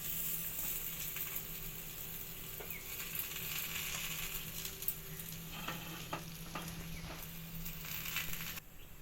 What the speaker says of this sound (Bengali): এই দেখুন এটাকে মা সেঁকছে, তেল দিয়ে মা করছে।